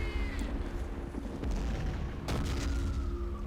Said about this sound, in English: And my tank's firing at him.